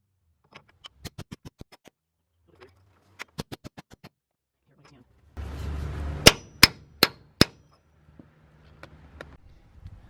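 A hammer strikes a 3/4 to 1/2 inch socket adapter set against a rear axle shaft during seal and bearing removal, giving sharp metallic clangs in several close bursts, including a louder group of four evenly spaced ringing hits.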